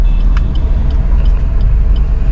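A car engine rumbles loud and close as the vehicle turns around and pulls away, with steady low droning and faint higher clicks.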